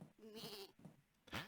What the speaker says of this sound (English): Can't do anything with the goat.